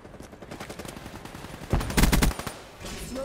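SMG fire in Black Ops 3, rapid bursts of close automatic shots that crest into a loud volley midway, then fade into quieter background game sound.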